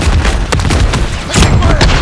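A stun grenade going off in a shooter video game, a couple of loud booming bursts amid ongoing gunfire and game noise, close and harsh.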